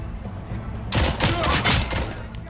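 Gunfire in the RoboCop: Rogue City video game, a sudden burst of loud, dense shots and impacts that starts after a quiet moment and keeps going in rapid clusters, close and heavy.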